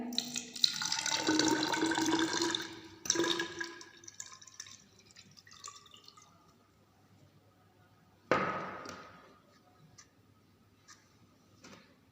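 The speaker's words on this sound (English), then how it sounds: "take 100 ml of water in measuring jar." Water pours into a measuring jar in a filling gush that trails off, followed by a second brief pour and then scattered drips, all heard close in a quiet room without talk.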